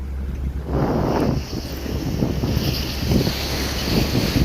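Rough sea waves about 1.5 meters high surge and wash against a moving fishing trawler off Taiwan, with strong wind buffeting the microphone and a low engine drone throughout.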